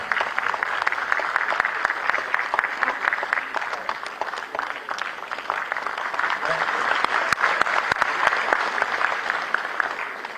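Sustained applause from an audience at a teaching appointment letter distribution ceremony held by the education department in Dehradun, steady dense clapping running throughout.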